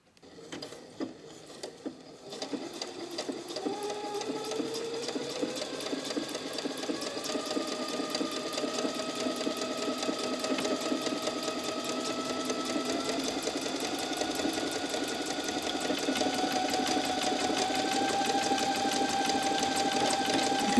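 Domestic sewing machine stitching a buttonhole on fairly thick fabric using its automatic buttonhole function, a steady close mechanical whirr with rapid needle rhythm that runs continuously after a brief start.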